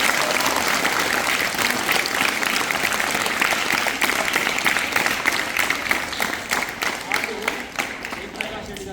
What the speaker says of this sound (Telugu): ఒకసారి గట్టిగా చప్పట్లు కొట్టారు